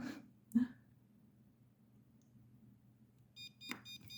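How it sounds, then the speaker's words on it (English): A jewelry tester gives a short electronic beep with a few stacked tones near the end, signalling metal, preceded by a faint thump and low background hum. "One of those will light up and you'll hear a little beep"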